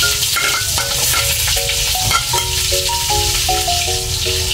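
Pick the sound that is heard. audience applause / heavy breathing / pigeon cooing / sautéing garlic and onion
sautéing garlic and onion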